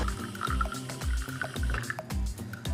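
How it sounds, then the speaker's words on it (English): Water is poured from a container into a small kitchen gadget until it reaches the fill line. The pour splashes and gurgles steadily at close range, broken by a few low thumps. "Now, I'm gonna take some water and fill it to the water line"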